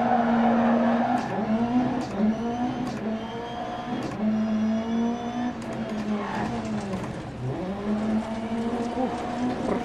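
A rally car in DiRT Rally 2.0 rallycross roars and revs continuously, engine pitch climbing and dropping through gear changes, with repeated tyre squeals and skids as it slides through corners, loud and close throughout.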